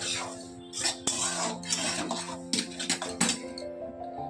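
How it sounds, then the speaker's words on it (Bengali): Metal kadai pans clatter onto gas stove burners in a home kitchen, with several clinks and knocks spread over a few seconds amid faint background sounds. "দুটো কড়াই জন্য দুটো গ্যাসে বসিয়ে নিলাম"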